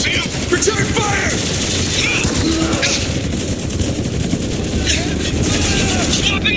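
Rapid gunfire exchange in the Spec Ops: The Line video game, with dense automatic bursts and scattered shots rattling continuously and loudly throughout.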